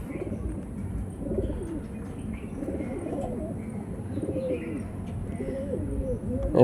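A young female Andhra pigeon and others nearby give soft, repeated low cooing calls in a steady rhythm, fairly quiet and close, with faint voices in the background.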